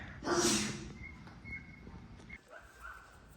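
A wet dog on a climbing trip in Mexico gives one loud, close, breathy snort, followed by soft snuffling and faint whimpery breaths over quiet background noise.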